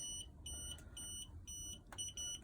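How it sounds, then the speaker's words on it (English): Quiet, high-pitched electronic beeps from a 2021 Elddis Avante 840 caravan fridge, warning it is not connected to gas or a car, repeating in a steady pattern over a low background hum, with no talking. "It beeps because we're not connected to gas or a car at the moment."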